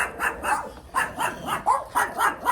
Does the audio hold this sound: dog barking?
yes